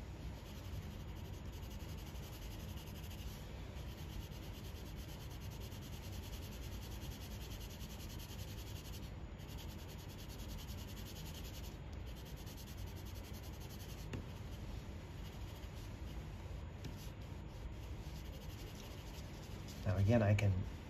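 Pencil drawing and shading pipes on paper, a steady continuous scratchy rubbing that runs without pause at close range, with a brief louder bump near the end.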